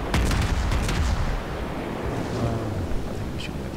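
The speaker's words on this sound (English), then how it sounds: "I think he's shooting at the other guy." Naval gunfire during a World of Warships battle: a series of heavy, rumbling booms in the first second, then a continuous low roar with a faint distant crack near the end, no talk.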